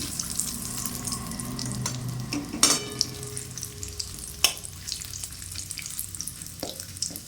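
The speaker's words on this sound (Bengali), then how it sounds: "গরম তেলে আর একটু সরষের তেল দিয়ে দিলাম, সাদা জিরে, তেজপাতা ফোড়ন দিলাম, দিয়ে নেড়ে নিলাম।" Cumin seeds and bay leaf temper in hot mustard oil for a Bengali prawn and potato curry, crackling in a close, steady sizzle punctuated by a few sharp clicks and scrapes of stirring.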